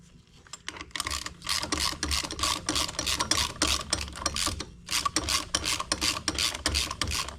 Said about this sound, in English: This is a wrist pin removal tool made by Motion Pro.